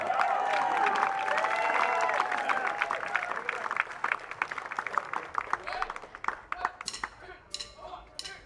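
Audience applause and cheering at a memorial concert, honoring the horn section. Sustained clapping with whoops fills the first half, then thins into scattered claps before fading out.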